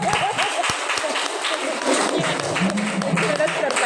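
Audience clapping in a hall after a military officer speaks, a loud, dense burst of hand claps with crowd murmur and voices mixed in throughout.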